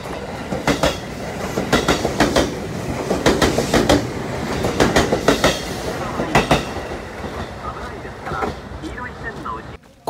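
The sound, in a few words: train running on rails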